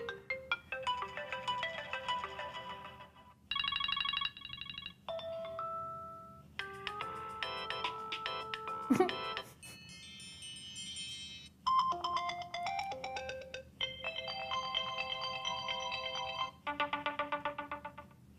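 A series of different iPhone iOS 7 ringtone melodies plays one after another, bright chiming tones with brief gaps between each tune.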